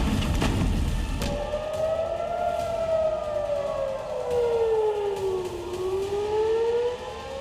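A civil defense air raid siren for a mock war drill in Uttar Pradesh wails alone, rising and falling slowly in one long sustained tone after a brief knock at the start.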